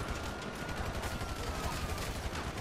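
Rapid gunfire in GTA V crackles in a dense, continuous burst, loud and close, with a voice faintly underneath.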